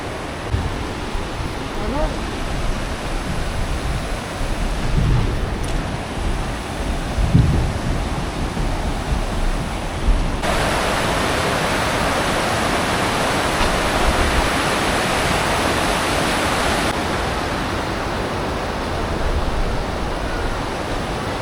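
Swollen monsoon river current rushing near Vasundhara waterfall on the Bhandardara trek, fed by heavy rain in the hills: a loud, steady, close roar of churning water that holds without a break throughout.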